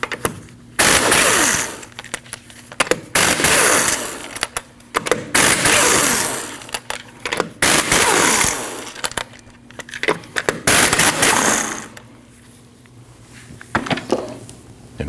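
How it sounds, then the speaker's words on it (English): A pneumatic impact wrench rattles off 19mm lug nuts from a 2003-2008 Subaru Forester front wheel in several loud, close bursts separated by short pauses. "After you've raised and supported the vehicle safely, you need to remove your 5 lug nuts."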